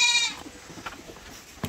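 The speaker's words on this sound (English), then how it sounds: "There is like a bull. A male goat." A male goat on Kalangala Island lets out one clear, nasal bleat up front, fairly close, followed by quiet outdoor background and a brief knock.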